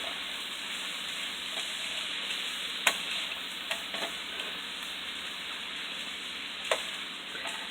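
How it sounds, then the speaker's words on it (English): Shrimp stir fry with soy sauce sizzling steadily in a pan while tongs toss it, with a few sharp clacks of the tongs standing out above the continuous frying hiss. "I got some tongs to help me mix all this in."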